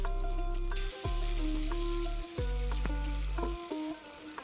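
Chopped tomato is added to softened, browning onions in a hot pan for a rohu fish curry, sizzling steadily and close up, with stirring clatter and a low hum underneath.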